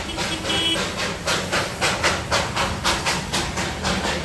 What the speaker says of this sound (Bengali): আমরা যেগুলো দেখি সিনেমায় সেই ট্রেন দেখুন, কয়লা চালিত ইঞ্জিনের ট্রেন